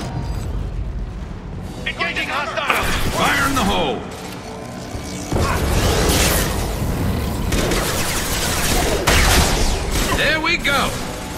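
Mass Effect 2 combat with rapid gunfire and a grenade blast, dense and loud throughout, heavy booms in the middle and bursts of shots, with voices talking over the fighting.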